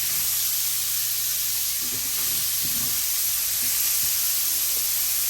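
Red peppers sizzle and fry in a pan while being stirred for a Cajun sausage and shrimp fettuccini, a steady close hiss with faint scraping bumps of the stirring throughout.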